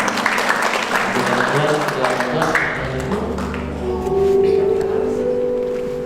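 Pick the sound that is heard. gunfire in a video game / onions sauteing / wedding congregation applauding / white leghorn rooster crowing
wedding congregation applauding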